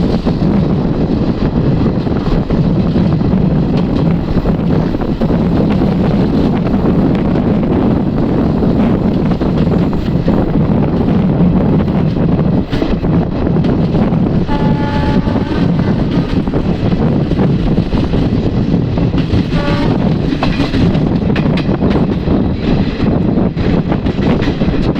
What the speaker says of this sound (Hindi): हमारी ट्रेन अब आ चुकी है बांदीकुई जंक्शन।